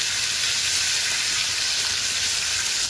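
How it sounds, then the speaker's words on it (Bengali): Onion and capsicum stir-fry in a pan over a high flame, with a loud, continuous, close sizzle and hiss throughout and no talk. "হাই ফ্লেমে করবে, যেন এই পেঁয়াজ বা ক্যাপসিকাম থেকে জল না বেরিয়ে যায়"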